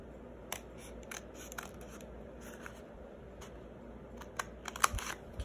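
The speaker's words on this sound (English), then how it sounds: "now we need to cut these two, because we have folded, these two will get cut together" Scissors cutting through two layers of folded paper card, a string of crisp snipping clicks that builds toward a few sharper cuts near the end, close up with no talking.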